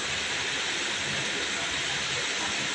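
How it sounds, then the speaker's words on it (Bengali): Steady rushing water poured out of a pot in a continuous broad hiss, close and fairly loud, without pause. "ছেলেকে বললাম জলটা ফেলে দিতে"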